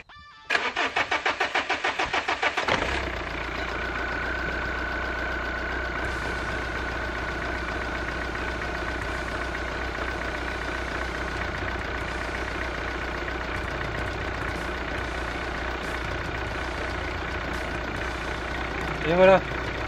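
A car engine runs after injector number 4 is swapped in, starting with a few seconds of loud rapid ticking, then settling into a steady, even idle hum that continues close by for the rest of the clip.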